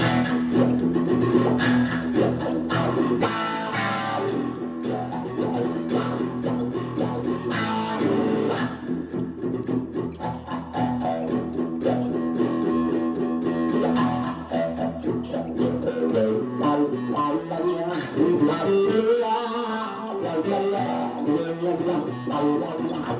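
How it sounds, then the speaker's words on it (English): A distorted electric guitar plays a continuous line, its tone sweeping and vowel-like from a wah pedal, thick and overdriven throughout from a Voodoo Labs Sparkle Drive mod. "distortion on the Sparkle Drive mod. It works good with a wah-wah pedal."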